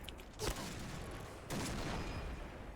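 Gunfire in the shooter game Point Blank: two loud broadband bursts, one near the half-second mark and a longer one starting a second later, over a steady game background with no talk.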